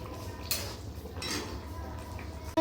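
Prawn coconut curry stirred in a pan: a few soft spoon scrapes and clinks against the metal over a low simmering background, with a sharp knock at the very end.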